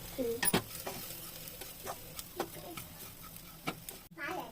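Egg cooking in a pan with previously fried ingredients, stirred with scattered utensil clicks and scrapes over a faint sizzle; no voices.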